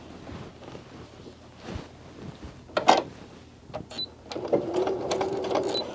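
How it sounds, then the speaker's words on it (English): Sewing machine stitching two pieces of fabric together for a medical face mask, a quiet start followed by bursts of rapid mechanical whirring and clatter that grows steadier and louder toward the end. "So now I'm going to go to the sewing machine and I'm going to sew the two pieces together."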